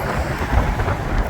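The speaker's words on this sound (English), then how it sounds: "a little bit windy" Wind gusts across the open beach in the Florida Keys on an overcast, misty day, a loud, low, rumbling buffeting on the microphone, continuous and without any voices.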